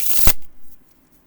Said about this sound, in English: Okay, so shuffling, if you're okay with using the smaller size cards